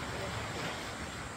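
Sea waves washing against the shore make a steady, broadband rush with wind noise over the microphone, continuous and fairly close with no voices.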